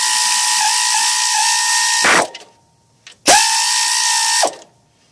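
Air ratchet pulling a rocker stud from a Chevy 350 cylinder head: two loud, close, high-pitched whirring bursts, each lasting about two seconds, separated by a short pause with a faint click.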